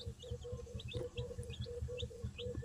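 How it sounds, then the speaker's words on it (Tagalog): Newly hatched Rhode Island Red chicks peeping close by, a steady rhythmic chorus of short high chirps repeating several times a second over a low background hum. "Ito yung kapipisa na mga Rhode Island Red natin"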